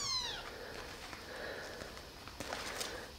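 Tiny kittens give one faint, high, falling meow at the start, followed by quiet sniffing and light shuffling as they move about.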